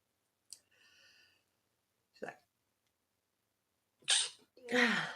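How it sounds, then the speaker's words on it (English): A single sharp sneeze bursts out after a few quiet breaths and small sounds, followed by a brief voiced exhale. "Uh-oh, I'm going to sneeze."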